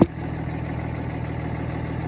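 A 2014 Ram pickup's 6.7 Cummins diesel engine idles close by after a brief thump at the start, a steady low rumble holding an even, unchanging drone.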